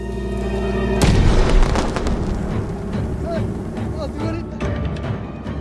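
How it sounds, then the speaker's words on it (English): Fireworks explode in the samurai video game Ghost of Tsushima during a battle on Iki Island: one loud boom is followed by a string of crackling bursts and pops over an orchestral score, with faint voices. "More fireworks! On all sides!"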